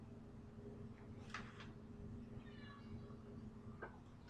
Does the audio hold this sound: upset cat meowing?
yes